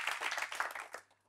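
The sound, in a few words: studio audience applause for guests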